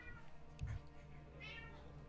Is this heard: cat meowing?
yes